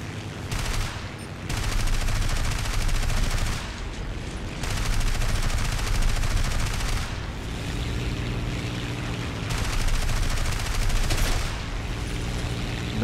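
A ship comes under gunfire from attacking planes in a War Thunder naval battle, with dense rattling bursts of shots and impacts over a constant engine and water roar, loud and sustained.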